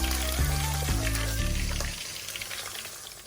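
Loud crackling sizzle of tempura frying in hot oil, dense and close, cutting off partway through and leaving a quieter hiss.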